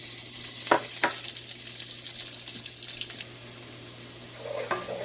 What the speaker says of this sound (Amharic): አሁን በዚህ ሽንኩርትና ቅቤውን ጠብሻለሁ።